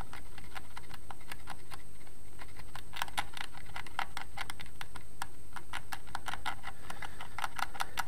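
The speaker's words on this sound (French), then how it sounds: "C'est vraiment le tranchant du scalpel qui enlève cette toute petite concrétion." A scalpel blade scrapes soil and tiny concretion from a bronze coin with very light pressure, giving soft, close, irregular ticking scratches over a faint steady hum, with no talk.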